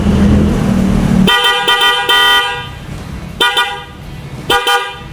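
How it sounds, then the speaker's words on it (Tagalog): A Yamaha NMAX 155 motorcycle's triple horn, converted from a dual horn, honks in three loud, sharp bursts, the first long and the next two brief, after a low rumble. "Tapos, busina natin."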